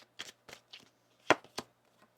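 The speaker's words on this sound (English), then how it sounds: "One more shuffle here." Tarot cards shuffled by hand in a few quick riffling bursts, short crisp flutters separated by brief pauses, close and fairly quiet with no talking.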